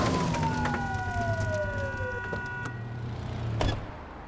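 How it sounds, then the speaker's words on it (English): A police car siren blips in The Precinct video game on PS5, a short electronic wail sliding downward over a steady engine hum, followed by a brief burst near the end. "Get behind them and blip the siren and make them pull over."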